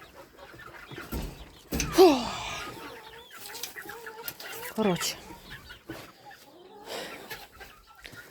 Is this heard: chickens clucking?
yes